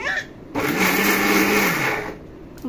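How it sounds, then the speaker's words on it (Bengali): An electric kitchen blender whirs loudly and steadily for about one and a half seconds, starting abruptly and winding down, with quieter room sound before and after. "আমি কিন্তু এক হাতে কিন্তু ব্লেন্ডার করতেছি"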